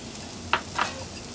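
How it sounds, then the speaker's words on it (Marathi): Onions and coriander sauté in a pan with a soft background sizzle, broken by two quick scraping stirs of a spatula against the pan in a short burst. "परतून घेऊया आपण हे सगळं."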